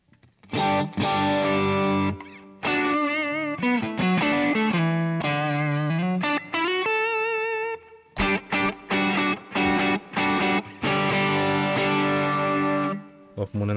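Electric guitar, a Stratocaster, run through the crunch preamp of a Boss ME-90 multi-effects unit, giving loud, gritty, overdriven tones: sustained bent lead lines followed by choppy stabbed chords, played alone.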